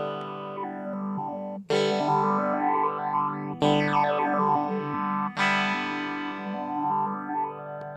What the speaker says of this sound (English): And then finally, the phaser.